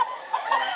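Short clucking from a Sweater-breed chicken at a Bulacan pet market, a couple of quick throaty calls over a steady background hum.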